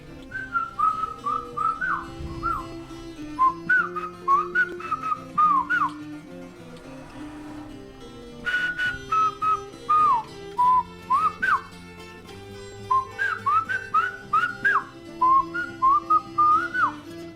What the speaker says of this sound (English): Then Marcelino's job is to whistle the instructions to Pedro.